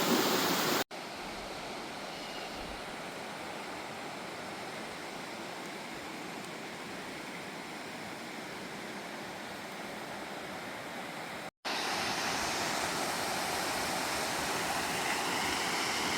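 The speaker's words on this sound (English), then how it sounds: "That is White Top Laurel Creek." White Top Laurel Creek flows through a forest with a continuous broadband rush of water, steady and fairly close, with no voices and one brief cut partway through.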